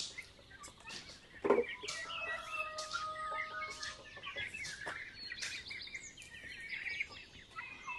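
Turkeys and chickens resting on a farm after their midday feed, with scattered chirps and clucking calls, one louder call standing out among faint ongoing bird sounds.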